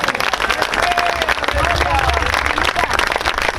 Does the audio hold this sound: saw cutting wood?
no